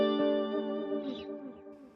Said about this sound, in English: There's a stereo chorus in front of that, and we've got some delay, and then the shimmer reverb,